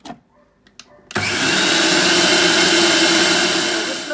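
A food processor blending cheesecake crust crumbs with melted butter; after a few faint knocks, the motor bursts into a loud, steady whirring roar that holds for several seconds before easing slightly at the end.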